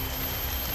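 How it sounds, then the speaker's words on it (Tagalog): Steady broadband hiss of rain falling, continuous and even throughout the short stretch, with no voices. "Umuulan."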